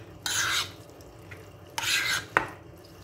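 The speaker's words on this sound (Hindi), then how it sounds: "अब मैं इसमें ये मिक्स करूँगी" Lauki (bottle gourd) raita stirred in a bowl, with two brief bursts of spoon scraping and a small clink, separated by quiet pauses.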